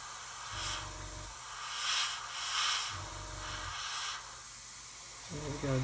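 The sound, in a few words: spray paint hissing from a can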